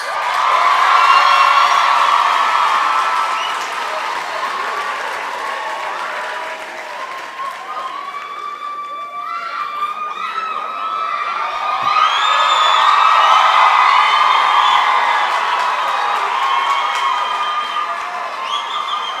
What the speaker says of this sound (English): Let me ask all the students to really give the parents a round of applause